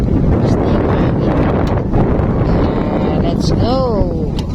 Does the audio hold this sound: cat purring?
no